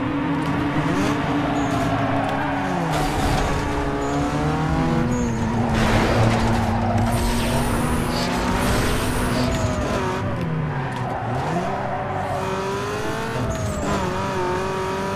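A Peugeot 206 GTi in the racing game Need for Speed Underground 2 revs loudly and steadily, its engine pitch rising and falling through gear changes, with tire squeal and passing traffic.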